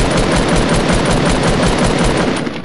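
SMG gunfire in Fortnite Battle Royale, a loud rapid unbroken stream of automatic shots that dominates the clip and tapers off slightly at the end, with no talk over it.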